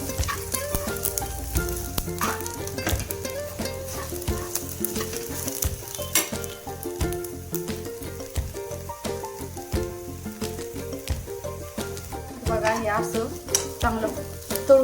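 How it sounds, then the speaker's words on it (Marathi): Sprouted moth bean masala stirred and fried in oil, a continuous close sizzle with quick rhythmic spoon scrapes and clinks against the pan throughout. "आता याला चांगलं मिक्स करून घ्यायचं तेल सुटेपर्यंत"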